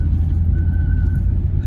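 A Renault Super 5 GTS engine drones with a steady low rumble while pulling away gently, and a faint thin squeal rises briefly above it before dying away, heard from inside the car.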